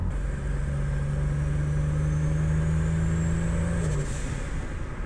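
A turbocharged 3800 engine in a Buick Grand Prix, freshly rebuilt after a chipped piston, runs in a steady close drone whose low tone drops off near the end.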